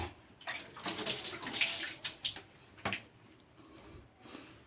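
Water splashing and sloshing as someone bathes, with irregular close bursts and slaps of water over a steady wash, no talk.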